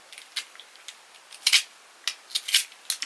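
Large scissors snip through a package, a quick run of sharp, irregular cuts close up with short pauses between.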